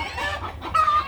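A chicken clucking close by in a farm pen, a few quick clucks and a drawn-out cackle over low background rumble, with no talk.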